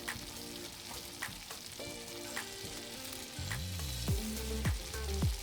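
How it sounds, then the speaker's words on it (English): Pasta with grated Parmesan sizzles in a pan while being stirred, giving a steady frying hiss with soft scraping strokes that grow louder toward the end. "So grate some cheese over the pasta and stir everything well."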